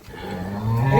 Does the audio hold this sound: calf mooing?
yes